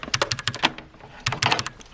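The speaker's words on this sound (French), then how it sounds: "Un petit clavier Cougar, clavier mécanique, qui devrait passer crème." Clacky typing on a brand-new Cougar mechanical keyboard, close and fairly loud: two quick bursts of keystrokes separated by a short pause, with no voices.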